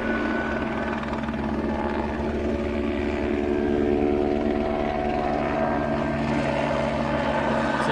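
A helicopter flies overhead, its loud steady rotor and engine drone filling the whole stretch with a constant pulsing hum and whine, close and unbroken, with no talking.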